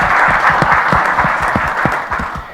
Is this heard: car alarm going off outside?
no